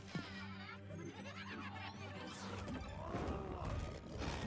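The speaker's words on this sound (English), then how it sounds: "Come on, get in my vacuum," Luigi's Poltergust vacuum pulls a ghost in during Luigi's Mansion 2: a steady whooshing suction mixed with clattering mechanical and crashing game effects over layered music, growing slightly louder toward the end.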